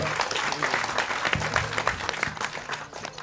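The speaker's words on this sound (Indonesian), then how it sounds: "tepuk tangan untuk Pak Muzamil" An audience at an evening discussion gathering breaks into steady, moderately loud applause for a speaker, many hands clapping in a dense, continuous patter with a few murmuring voices underneath.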